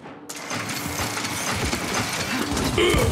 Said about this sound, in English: Torque bow revving up.